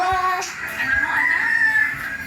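A bantam rooster crows close by in one long, drawn-out call, with faint clucking and background noise around it.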